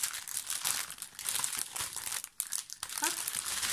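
Small plastic sachets of paint are torn open and handled, giving loud, close crinkling and crackling that runs continuously with brief tearing bursts.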